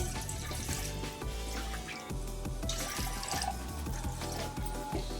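Water is poured steadily from a glass into a pan while making kesari bath, a continuous splashing liquid stream with faint clinks, moderately loud and steady throughout.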